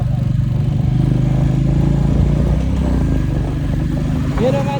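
A motorcycle engine drones steadily and loudly while being ridden on the way to Manang, with wind rumble and people talking over it throughout.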